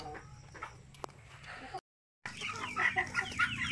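Several chickens cluck and murmur close by in a farmyard, with a brief silent gap before the clucking resumes more busily.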